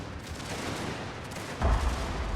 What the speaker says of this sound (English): the mortars constantly explode above the enemy's heads